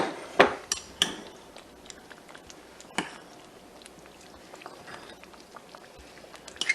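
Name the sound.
stirring chili with noodles in a pot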